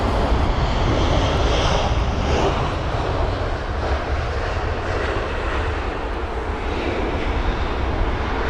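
An airliner lands at London Heathrow in windy conditions, a loud, close, continuous roar of engines with broadband rushing noise that eases slightly over time, and no speech.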